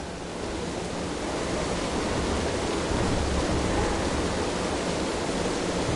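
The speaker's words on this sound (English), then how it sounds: "That water sounds crazy." Water rushes through pipes in the video game Dishonored, a loud, steady roaring wash that fills the whole stretch without pause and with no voices over it.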